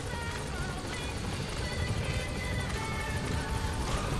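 A helicopter in the video game Metal Gear Solid V: The Phantom Pain throbs with a steady, dense rotor chop and engine roar, loud and continuous throughout with no talk over it.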